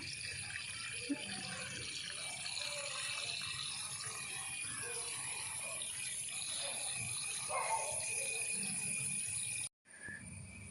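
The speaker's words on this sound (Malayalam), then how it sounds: "ഇനിയിൽ വെള്ളം ഫില്ല് ചെയ്യണം കേട്ടോ." Water is poured into a container for planting lotus and runs as a steady, moderate stream close by, then cuts off abruptly near the end.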